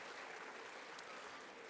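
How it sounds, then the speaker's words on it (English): Students applaud at a Hispanic Heritage program, with steady, dense clapping from a group heard faint and distant throughout. "thank you for the exuberant clapping"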